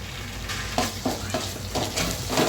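Ginger garlic paste fries in a hot pan with steady close sizzling, broken by several stirring scrapes and bursts of louder spattering at uneven intervals; no voices.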